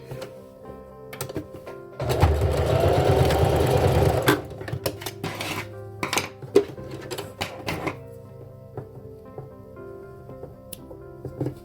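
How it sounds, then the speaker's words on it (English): A sewing machine runs a short forward-and-back securing seam along the side of a fabric face mask, a dense steady burst of stitching for about two seconds followed by scattered clicks and handling taps. "Just a real quick forward and back seam on each side."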